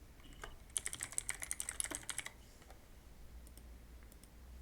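A burst of quick, close keystrokes on a computer keyboard, about a dozen rapid clicks in a row, followed by a few scattered taps in a quiet room.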